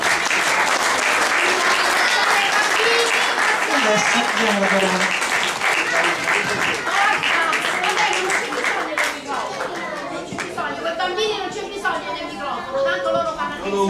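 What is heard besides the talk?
audience applause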